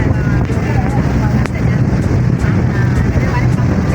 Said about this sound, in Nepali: यता त हावा पनि आउँदो रहेछ नि।